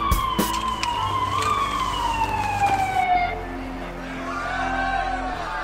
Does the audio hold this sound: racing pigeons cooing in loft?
no